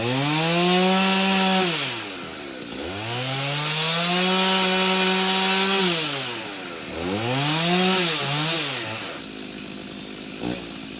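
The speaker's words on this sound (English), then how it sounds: "I think he's got his chainsaw pinched." A chainsaw trims tree limbs at the edge of a farm field. Its engine revs up and down in long surging waves, loud and close, before dropping to a low idle.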